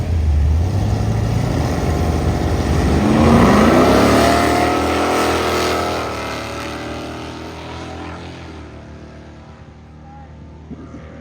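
Two small-block drag cars, one a 1975 Plymouth Duster with a 360, launch and roar down the strip, a loud rising engine howl that builds, peaks and fades into the distance.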